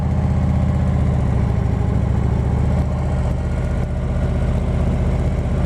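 A motorcycle engine idles with a steady low rumble, loud and close, continuing without speech.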